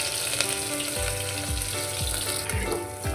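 Finely chopped green chillies and garlic-ginger paste fry in a pan for palak pulav, a loud continuous sizzle with regular soft thumps from stirring.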